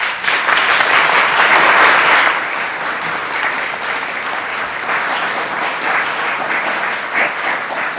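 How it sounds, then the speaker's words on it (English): An audience at a legislative candidates' forum claps steadily for several seconds, a dense, loud wash of applause that swells early and then holds at a slightly lower level. "Let's give the candidates a round of applause."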